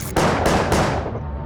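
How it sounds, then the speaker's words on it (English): Three loud, close gunshots fire in quick succession inside a building, each sharp crack blurring into a reverberant boom. "3 gunshots ring out upstairs"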